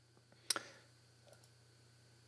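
A computer mouse clicks during website setup on a hosting signup page: a quick double click, fairly close and crisp, against a faint steady hum, with a couple of softer ticks afterward.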